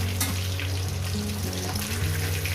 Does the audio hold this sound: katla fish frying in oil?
yes